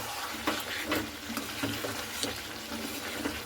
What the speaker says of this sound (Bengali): দেখুন একটু ভালো করে এইভাবে আমি একটু নাড়াচাড়া করে নেব।